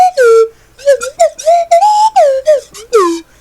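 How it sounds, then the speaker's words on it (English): A slide whistle in the survival game Stranded Deep toots in a quick run of short, loud, swooping notes that slide up and down in pitch, separated by brief pauses. "I gotta say the slide whistle's probably the most fun"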